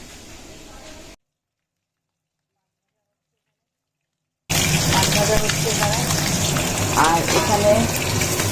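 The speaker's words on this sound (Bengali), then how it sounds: "এই মাছ এখানে ভাজা হচ্ছে" Fish frying in a pan on a gas stove, a dense continuous sizzle and crackle that cuts off into silence for a few seconds, then returns loud and close.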